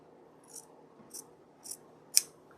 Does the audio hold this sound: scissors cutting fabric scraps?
yes